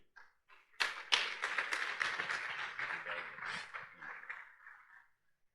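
Applause from a conference audience at an opening ceremony: a few scattered claps, then a burst of brisk clapping that slowly thins and fades away over several seconds, heard fairly close in a quiet hall.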